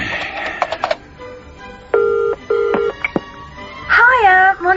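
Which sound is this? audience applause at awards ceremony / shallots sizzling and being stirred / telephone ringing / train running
telephone ringing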